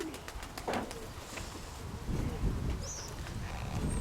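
Soft pigeon coos and bird calls in an outdoor setting, with low rumbling background noise and faint movement sounds.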